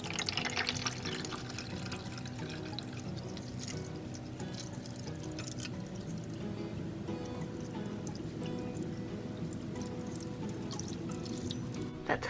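Water is poured steadily into a dog's water fountain with a small filter system, a continuous close splashing and gurgling that keeps an even level throughout.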